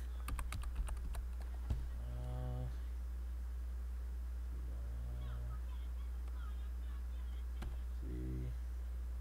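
Computer keyboard keys tapped in short bursts while game controls are being set up for a Super Mario World ROM hack, light clicking clusters over a steady low hum with some quiet talk between.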